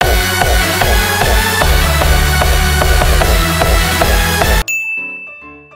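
A loud hardstyle remix drop made in LMMS, built from layered pads and leads over a pounding, regular kick pattern, cuts off abruptly near the end and leaves a short ringing tail.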